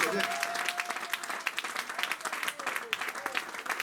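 A church congregation applauds and calls out in acclamation during a sermon, with dense, steady clapping and raised voices mixed through it for the whole stretch.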